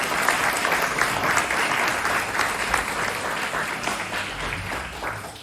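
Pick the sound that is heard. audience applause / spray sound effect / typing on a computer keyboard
audience applause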